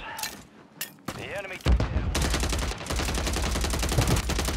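Rapid SMG fire from a Warzone solos match rattles in a sustained, dense automatic burst close by, after a few earlier isolated shots and faint game noises.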